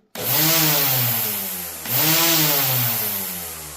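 Einhell GC-CT 18/24 Li cordless grass trimmer spinning up indoors, a loud, close whine that rises and slowly falls, then restarts for a second burst.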